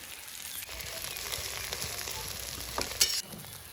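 Oil crackles and sizzles steadily around an egg frying in a pan on a clay stove, with a brief scrape of a utensil near the end.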